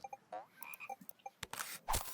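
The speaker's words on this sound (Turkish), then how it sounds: "Kara kurbağası." A toad croaks in the video game TOEM, giving a few short, gurgling calls near and clear, followed by a couple of louder game sound bursts, with no talking.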